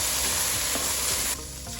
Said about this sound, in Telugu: చికెన్ ఇలా చక్కగా వేపుకోవాలండి.